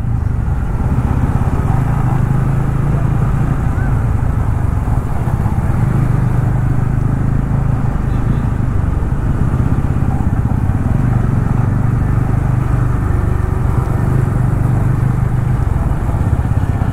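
TVS Ronin motorcycles riding side by side in parallel lines on a foggy road during a group Christmas ride, a steady, loud engine drone that continues without pause, with no talk.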